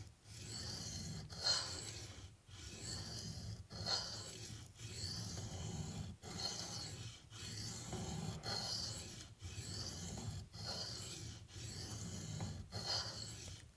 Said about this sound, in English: So right now I'm just blending all the scratches into the plunge.